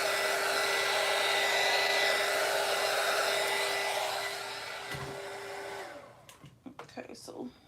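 Steady, loud rush of blown air sweeps over an epoxy resin ashtray surface for about six seconds, then cuts off, leaving faint handling noises.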